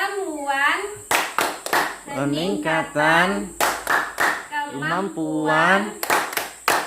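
A group claps in rhythm to the Tepuk P2K2 clap chant in a family-development session, sharp bursts of claps alternating with a voice leading the chant.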